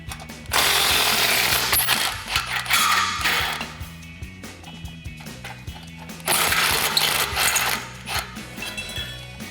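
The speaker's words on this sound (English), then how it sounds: "I'm using a 13mm swivel socket to remove the 2 bolts holding on that factory flange." A 13mm swivel socket on a ratchet removing exhaust flange bolts on a 2009-2014 Ford F-150 5.4L V8, with two bursts of rapid close clicking separated by quieter mechanical handling.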